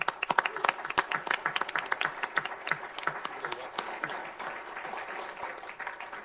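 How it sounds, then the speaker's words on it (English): Applause breaks out at a city council meeting, a scattered, fairly faint crowd of hands clapping that starts with loud individual claps and thins into a softer, denser patter. "I'm going to give you a round of applause for this one."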